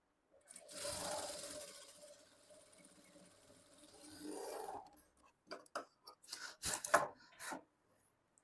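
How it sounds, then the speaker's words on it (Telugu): Sewing machine stitching the front part of a blouse with a half-inch seam margin, two short whirring runs followed by scattered handling clicks and fabric shuffling, fairly quiet and close. "ఇప్పుడు ఇక్కడ నుంచి ఇది కూడా 1/2 ఇంచు మార్జిన్తో స్టిచ్ చేసుకోవాలి."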